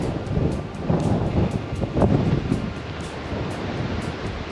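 Wind gusts roar across the microphone at the Kapurpurawan Rock Formation in Burgos, Ilocos Norte, under overcast skies, in a steady, rumbling wash, swelling slightly midway, with no voices.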